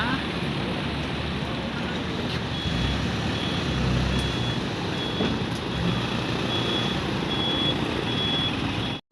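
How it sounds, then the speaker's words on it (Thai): A flatbed tow truck winches an overturned pickup loaded with vegetables onto its tray on a busy highway, with steady loud engine and machinery rumble throughout and faint repeating beeps. "ตอนนี้ก็จะทำการดึงรถขึ้นถาดแล้วนะคะ"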